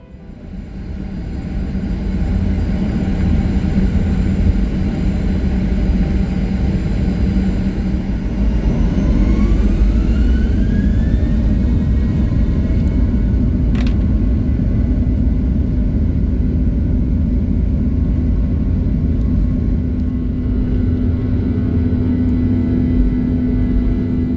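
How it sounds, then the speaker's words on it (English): Jet engines of an American Airlines airliner roar steadily during takeoff, a loud, continuous broadband rumble heard from inside the cabin that builds and holds with a rising whine. "Anyways, it's time for takeoff."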